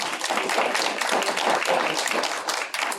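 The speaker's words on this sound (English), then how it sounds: "let's give her a round of applause" A meeting audience at the Bible Way Family Support Center gives a round of applause: dense, continuous clapping from many hands, fairly close, sustained for about three seconds.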